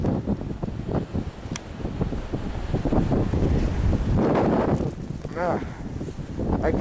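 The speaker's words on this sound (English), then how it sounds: "Look at that wind." Strong wind roars in a snowstorm, buffeting the microphone with heavy broadband gusts that swell near the middle, while a person talks intermittently over it.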